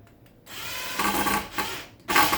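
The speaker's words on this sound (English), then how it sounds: "So we can put the screws in." A power drill drives screws into wood while a DIY floating nightstand is built, with two or three short, loud whirring bursts separated by brief pauses, close up and with no voices.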